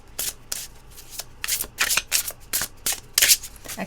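Tarot cards being shuffled by hand in a series of soft riffling bursts with short pauses between, close and fairly quiet, with no talking.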